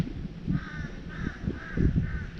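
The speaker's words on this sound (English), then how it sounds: "Sounds like there's a bunch of crows out here." Crows caw repeatedly outdoors at the Crater of Diamonds, four or so harsh calls at a steady pace over a low background rumble.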